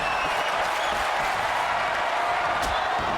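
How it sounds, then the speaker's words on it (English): A crowd at a women's wrestling live show, a dense steady roar of cheering and applause that fills the space without a break. "The crowd also chanting, "This is awesome.""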